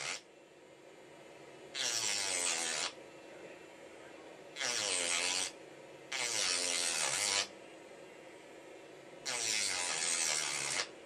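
A mini Dremel rotary tool cuts a slot into a stripped screw, its high buzzing whine running in four separate close bursts of one to two seconds each, with quieter hum between them.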